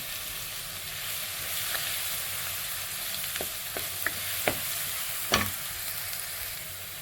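Ground garlic and ginger paste frying in a pan for a Kerala-style neymeen (seer fish) curry, a steady soft sizzle with a few sharp spatula clicks and scrapes toward the end, no talking.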